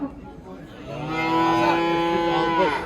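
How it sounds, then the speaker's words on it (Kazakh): Cows on a dairy farm in Kyzylorda low in long, drawn-out moos, a rising bellow swelling and holding loud and close for about two seconds with no talking over it. "Мына сіздің сиырларыңыз сұрап отыр ғой"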